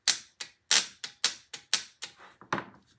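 A car starter solenoid clicks sharply and repeatedly as it is hooked up for testing, about nine crisp, close, loud clicks in an uneven rhythm with no talking.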